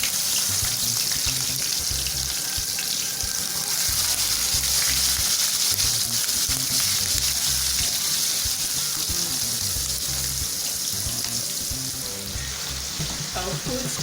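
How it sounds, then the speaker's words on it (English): Onions sizzle and fry steadily in a hot pot while cooking Nigerian jollof rice, a continuous close crackling hiss with occasional stirring. "Put in some of the onions."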